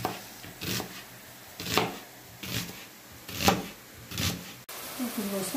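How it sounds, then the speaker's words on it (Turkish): A knife chops onions into long strips on a board, with about six separate firm, crisp cuts spaced roughly a second apart, close and fairly quiet. "Bu şekilde doğruyorum. Yani söğüş gibi doğruyorum"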